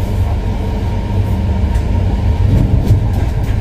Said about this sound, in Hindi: सिलीगुड़ी जंक्शन से हमारी ट्रेन निकल रही है अभी